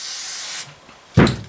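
An aerosol can sprays rust preventive into an engine cylinder bore of an old Wolseley: a loud steady hiss, a pause, then a second sharp burst of spray, close up.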